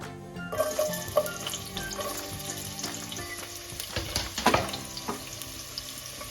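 Finely sliced onion frying in a small amount of oil for a chicken alani bhat rice dish, giving a steady close sizzle with watery crackling that swells and fades throughout.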